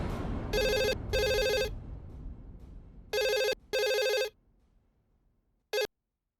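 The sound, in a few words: home telephone ringing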